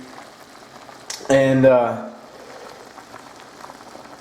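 Water comes to a boil in a pot for mint tea, a steady low bubbling hiss that runs throughout, briefly covered by a short burst of a voice partway through.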